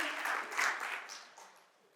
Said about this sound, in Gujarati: તાળીઓના ગડગડાટથી એને પણ વધારીએ